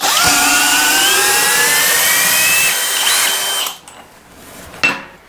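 Flex Turbo FX1271T and DeWalt FlexVolt DCD999 hammer drills bore loudly and steadily at close range for about three and a half seconds, then wind down and stop, leaving a quiet room broken by a short clack.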